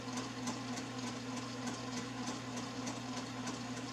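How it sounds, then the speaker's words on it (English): Domestic sewing machine stitching a quilt with a walking foot, a steady fast mechanical hum with a regular needle tick repeating about every quarter second, close and continuous throughout. "So I'm just going to wear the quilt while I quilt this side."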